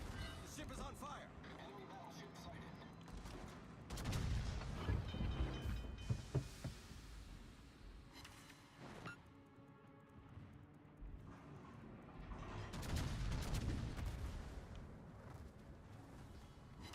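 Warship secondary guns fire during a World of Warships naval battle, heard as repeated booming artillery bursts and rumbling blasts layered over continuous battle noise, with someone talking over it.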